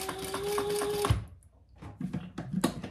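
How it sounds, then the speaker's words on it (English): Sewing machine top stitching the handle of a fabric casserole carrier, a rapid whirring stitch run with a steady tone that stops after about a second, followed by a few quiet clicks and handling sounds. "And now I'm just top stitching just like any other handle."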